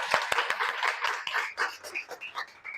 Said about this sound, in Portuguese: Ó, aplausos.